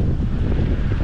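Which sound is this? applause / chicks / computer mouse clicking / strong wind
strong wind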